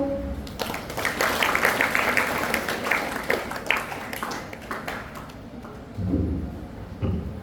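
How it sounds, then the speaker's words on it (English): An audience claps after a student's speech at a secondary school elocution competition, with steady broadband applause that fades toward the end, then a couple of brief louder bursts. "With the round of applause"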